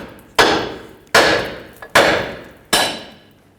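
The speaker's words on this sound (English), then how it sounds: "You can hammer on the lower control arm and the ball joint will eventually break free." Hammer striking the lower ball joint stud on a 1996–2002 Toyota 4Runner, four loud, sharp metallic blows at an even pace, each ringing briefly before fading, with no talk.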